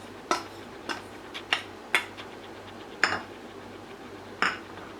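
A spoon clinks against a metal bowl several times at irregular intervals while ground mutton is mixed with fried gram, sharp close taps over a quiet, faint background hum.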